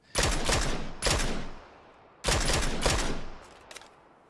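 Bursts of automatic gunfire in the battle royale video game PUBG: two long loud fusillades, a short break, then a third sustained burst, followed by a couple of faint distant shots.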